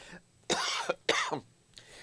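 Two strong, close coughs in quick succession, then a faint trailing hack, in a quiet room with no speech.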